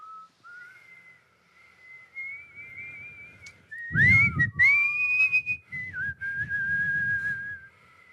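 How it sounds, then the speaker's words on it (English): One person whistles a wavering, breathy tune up close, at first thin and shaky, then stronger and more tonal with audible breath between phrases, and no speech. "That's what my whistle sounds like."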